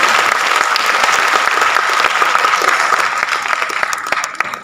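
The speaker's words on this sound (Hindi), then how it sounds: "मैं चाहूंगा एक बार जोरदार तालियां इस नाटक प्रस्तुति के लिए।" An audience applauds a Hindi stage performance of the comic satire Andher Nagri Chaupat Raja at Bharatmuni Rangshala, a loud, dense burst of clapping that holds steady, then thins slightly at the end.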